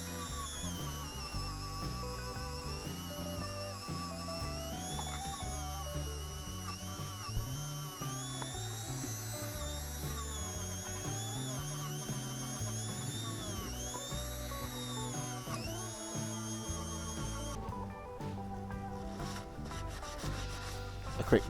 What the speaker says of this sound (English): use the spinning wire brush now just to polish the casting up